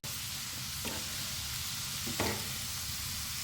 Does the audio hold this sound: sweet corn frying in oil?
yes